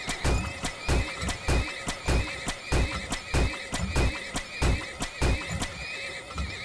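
Horses in the video game Turmoil whinny repeatedly in shrill, layered neighs over a steady, rhythmic clip-clop of hooves, loud and continuous throughout without any talking.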